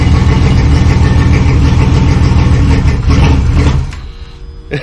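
A hurricane-damaged Grady White 282 boat engine runs loud and close with a steady mid-pitched rumble, then eases off abruptly near the end.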